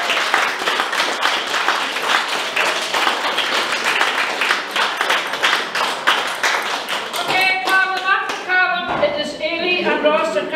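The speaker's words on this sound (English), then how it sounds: "Give them all a round of applause." An audience at a Gaelic night of a festival applauds loudly and continuously, dense clapping filling the hall, with a few musical notes and voices emerging near the end.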